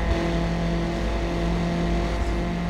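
A Honda Civic SI with VTEC revs in Need for Speed Underground, a steady, buzzing engine tone with layered harmonics, held at constant pitch and fairly loud, with no voices.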